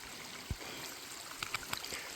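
A stream serving as a water source along the Appalachian Trail in Georgia gives a faint, steady outdoor wash of trickling water, with a few soft splashes and drips rising briefly above it.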